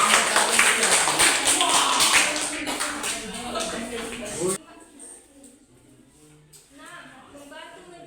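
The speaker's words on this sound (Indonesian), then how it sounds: "Beri aplaus untuk kelompok 2." A classroom audience applauds for the second presentation group, loud clapping with some tapping and shuffling and voices mixed in, then cutting off abruptly into quieter room sound with faint talk.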